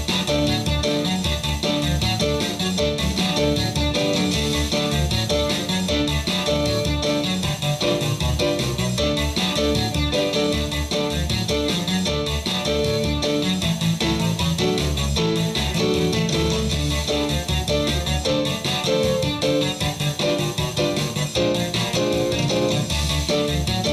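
Piano playing along with a full rock or country band, chords thickening a dense mix of drums, bass and other instruments, loud and continuous throughout with no talking.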